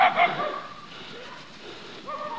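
A dog gives a couple of short, high yips and whines at a modest distance, brief and somewhat faint over a light background hiss.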